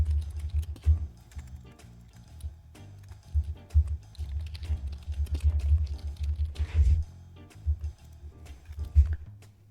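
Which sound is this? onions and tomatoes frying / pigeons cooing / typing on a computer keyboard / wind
typing on a computer keyboard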